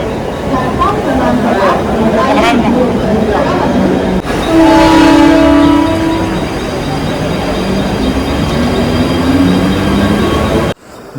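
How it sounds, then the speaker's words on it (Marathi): A Central line local train pulls into a busy platform at Kalyan in the evening with a loud rumbling roar, clattering wheels and a sustained horn blast. Ambient crowd chatter runs beneath it. "6:10ची लोकल 6:20ला आली, म्हणजे 10 मिनिटं लेट आहे लोकल"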